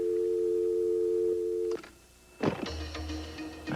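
A telephone dial tone hums steadily after a caller hangs up, then cuts off abruptly with a click, followed by a brief hush and some clattering handset noise.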